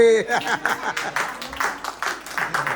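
Wedding guests clap in scattered, uneven applause, mixed with chatter and light chuckling nearby.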